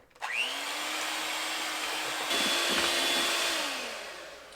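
An electric hand mixer whirs steadily through egg whites and cream of tartar for a Baked Alaska, starting up abruptly and holding a loud, even motor drone throughout with a slight pitch shift midway.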